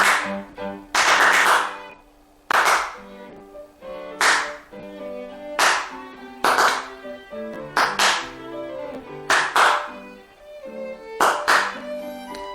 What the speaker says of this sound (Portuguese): Se eu der as palmas muito rapidamente ou muito espaçadamente, a gente vai ver isso no software